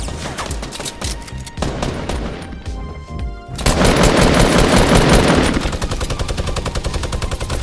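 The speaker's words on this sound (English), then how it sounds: "Oh, he got a minigun as well." A minigun in the Fortnite video game fires long, rapid bursts of dense gunfire, loud and close, pausing briefly before opening up again into a sustained continuous stream.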